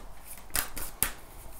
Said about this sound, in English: I'm just going to shuffle these tarot cards.